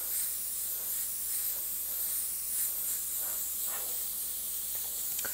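An airbrush spraying paint in short passes, a steady close, soft hiss of air with small pulses as the trigger shifts, with no voice over it.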